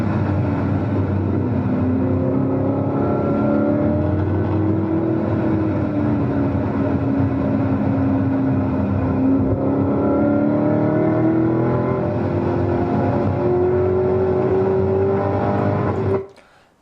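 A sports car runs at wide-open throttle on a race track, the engine note climbing steadily and loudly through a long pull before cutting off abruptly at the end.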